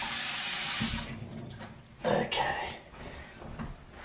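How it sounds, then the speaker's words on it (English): A kitchen sink tap runs while hands are washed after handling raw prawns during homemade pizza making, a steady broadband water rush at the start that then fades under intermittent nearby clatter and talk. "let me wash my hands"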